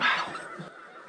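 Snow and specklebelly geese honk briefly during a waterfowl hunt, a short burst of calls that fades quickly with no talking.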